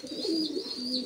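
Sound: pigeons cooing

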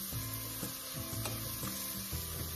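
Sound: onion frying in a pan for potato cream

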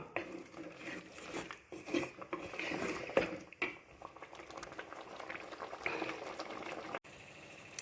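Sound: sautéing curry leaves and brinjal in pan

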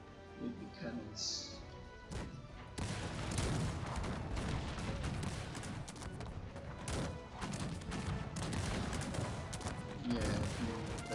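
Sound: cannon fire in Cossacks 3 video game

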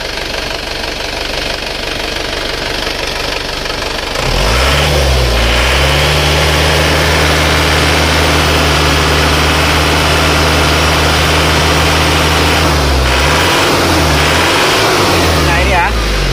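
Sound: Isuzu Panther diesel engine running and revving

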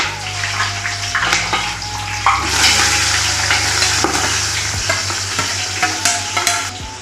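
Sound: onions sautéing in oil for mutton biryani

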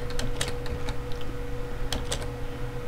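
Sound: computer keyboard typing

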